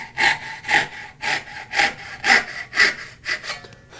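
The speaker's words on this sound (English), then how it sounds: "for cutting, I'm just going to try and cut off the majority of this" Freehand hand sawing through wood for a miter spline joint, eight or so steady rhythmic push-pull strokes, close and clear with no talk.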